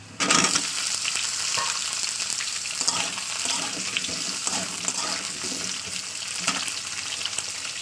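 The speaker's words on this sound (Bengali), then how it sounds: "দু থেকে তিন মিনিট একটু ভাজা করে নেবো" Cut potatoes frying in hot oil with browned onions for a prawn and drumstick curry, a dense continuous sizzle with occasional stirring scrapes, close and loud with no voices.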